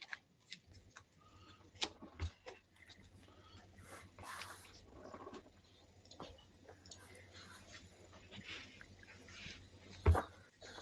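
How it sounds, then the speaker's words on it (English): A deck of trading cards for a Commander game gets shuffled by hand, with scattered soft riffling and tapping bursts and one sharp knock near the end, close and quiet amid low room hum. "I need to shuffle this deck more"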